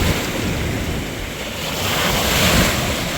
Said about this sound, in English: The waves tend to wash up rocks on the beach and constantly uncovering new ones